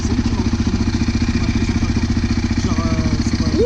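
A motorcycle engine runs close by on a street, with a steady loud throbbing, a rhythmic mid-pitched putter that holds for several seconds.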